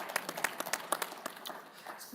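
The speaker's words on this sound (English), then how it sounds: "round of applause, please" Sparse applause from an audience at a leadership conference, scattered individual claps rising and thinning out over a couple of seconds.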